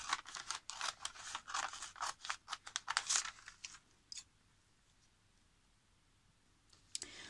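Scissors snip through newspaper in a quick run of close, crisp cuts and paper crinkles for about four seconds, then near silence with a few last snips.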